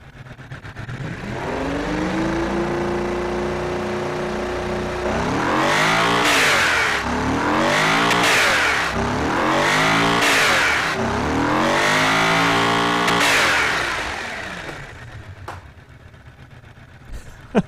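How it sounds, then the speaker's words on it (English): A 1,061 hp people carrier in a BeamNG Drive driving game idles briefly, then revs hard through several rising, surging sweeps before dropping back to idle, loud and close with no talking. "That is not the sort of sound that you expect out of a people carrier."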